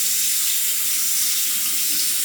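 A bathroom tap runs steadily while rinsing during a wet shave, a continuous close hiss of flowing water with no talk.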